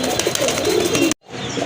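Raj Golla fancy pigeons cooing steadily at close range, soft throaty coos repeating for about a second before a sudden cut to quieter, muffled cooing.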